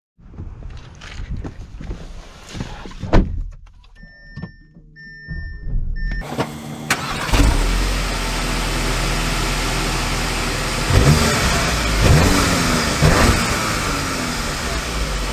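2023 Audi A3 engine starting after a few quiet clicks, then a steady, fairly loud engine drone as the car pulls away and accelerates, with rising revs near the end.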